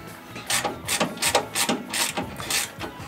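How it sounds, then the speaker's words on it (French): Suspension part being screwed in on a 1968 Camaro, with a steady series of close ratcheting clicks from a hand tool, about two per second, loud and without any talking. "mais je visse"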